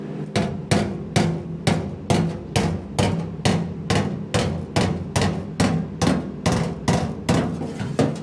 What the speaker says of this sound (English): I'm gonna keep going with the hammer here.